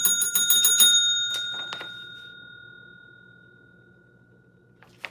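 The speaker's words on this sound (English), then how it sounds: "We got to ring the bell." A bell rung to welcome a new point scorer onto a trivia leaderboard: a quick burst of bright, close dings that decays into a long, clear ringing tail, with one faint tap near the end.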